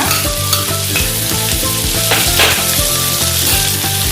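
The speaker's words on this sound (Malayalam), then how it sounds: "ഇപ്പോൾ കടുക് പൊട്ടിയിട്ടുണ്ട്" Mustard seeds pop and chopped onion fries in hot oil, giving a loud, steady sizzle broken by repeated stirring and scraping in the pan, with no talking.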